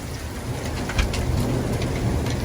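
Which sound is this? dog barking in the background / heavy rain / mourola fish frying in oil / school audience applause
heavy rain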